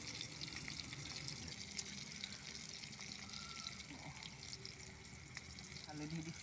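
Onions, chillies and spices sizzle as they fry in mustard oil over a home cooking fire, a soft continuous crackling hiss with occasional faint clinks, quiet and close.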